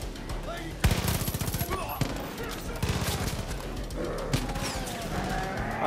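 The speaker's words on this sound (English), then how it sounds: "who's shooting me?" Gunfire in the video game Far Cry 5, rapid bursts of shots repeating close and loud across the clip, with game sounds around them.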